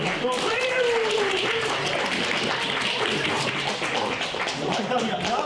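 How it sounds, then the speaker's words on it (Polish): A crowd at a My Little Pony quiz event at the Kucykon 2026 convention claps after a round, with a continuous patter of applause running beneath overlapping talk. "Brawa dla was po rundzie."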